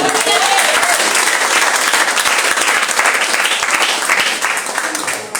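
Loud, sustained applause from a church congregation fills the space, a dense wash of clapping that fades slightly at the end.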